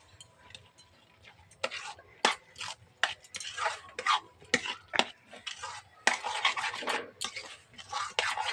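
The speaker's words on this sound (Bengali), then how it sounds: "এবার এটাকে আমি কিছুক্ষণ ধরে পাক দিয়ে নেব" Rice flour being stirred in a pan for village-style fried puli pitha, with uneven scraping and clinking of a utensil against the pan in irregular bursts, close and moderately loud, with no talking.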